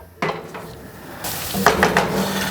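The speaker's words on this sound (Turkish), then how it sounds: "Bunları biraz kısa bir soteleyeceğim." Red and green peppers land in a hot pan and sizzle, with stirring scrapes and light clinks of utensil on metal over a steady frying hiss.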